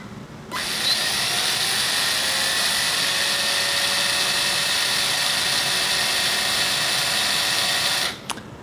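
A Dongcheng cordless brushless impact driver runs at its low speed setting, giving a steady high-pitched motor whine. It starts abruptly, holds an even pitch for about seven and a half seconds up close, then cuts off.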